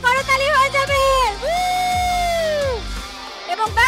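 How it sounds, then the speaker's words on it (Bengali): An audience at a game show cheers for three winners, with loud whoops and drawn-out yells rising and falling in bursts, close and strong throughout. "3 জনের জন্য জোরে একটা করতালি হয়ে যাবে।"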